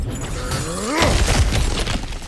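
In God of War Ragnarök, cracked ground is smashed through: a rising rumble gives way to one loud, heavy crash with crumbling debris scattering afterward.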